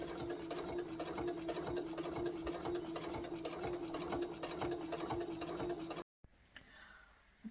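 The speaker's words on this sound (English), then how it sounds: "I've sewn all the way around and that's your hem finished." Sewing machine stitching a skirt hem, a steady mechanical rattle with regular needle ticks running continuously for about six seconds, then stopping with faint handling noise after.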